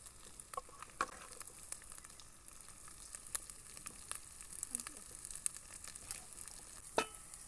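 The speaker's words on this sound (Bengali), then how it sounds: "মাংসগুলো খুব ভালোভাবে তেলে কষানো হয়ে গেছে" Meat with salt, turmeric and chili powder frying in oil in a pan over fried onion, garlic and ginger paste, a quiet steady sizzle broken by scattered crackles and occasional stirring clicks.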